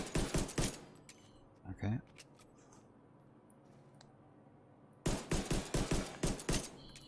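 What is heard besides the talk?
pistol gunfire in the video game Division 2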